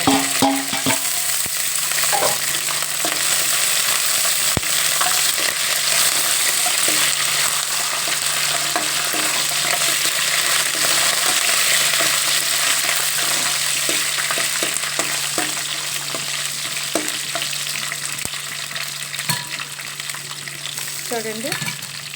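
Garlic and curry leaves fry in a pan with a steady, loud sizzle that holds throughout, broken by occasional clicks and scraping stirs; no one speaks.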